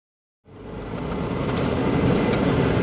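A car pulling away from a house in a village, its engine and road noise starting abruptly after a short silence, then a steady loud rumble that builds slightly as it drives on.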